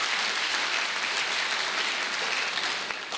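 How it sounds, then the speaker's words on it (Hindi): Sustained applause from an audience at a company's first-anniversary event, a dense, even wash of many hands clapping that carries steadily through and eases slightly at the end. "एक बार जोरदार तालियां हमारी महिलाओं के लिए"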